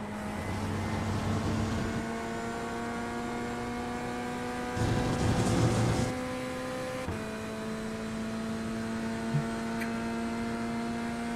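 Porsche race car engine in the iRacing sim, a steady droning tone with layered harmonics holding at high revs, briefly surging with a rougher burst before a slight pitch shift and continuing evenly.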